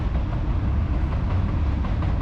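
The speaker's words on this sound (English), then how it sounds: "Whoop, here's a train. Another train." A train rumbles past steadily just out of the Hoosac Tunnel, its low engine drone and wheel noise filling the clip without pause.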